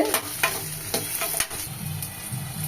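Garlic frying in oil for a Tamil garlic kulambu: a close, continuous sizzle broken by repeated scraping stirs of a spoon against the pan.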